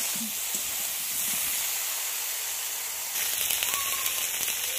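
Eggplant and potato fry with salt in a pan, giving a steady, dense sizzle and hiss throughout, close and even, with a few faint crackles and no talk.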